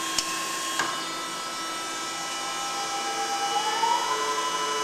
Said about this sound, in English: I'll run one program and that'll be it.